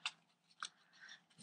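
Scissors cutting ribbon into small pieces for a Halloween treat box craft, three or four quick close snips spaced apart, quiet and with no talking.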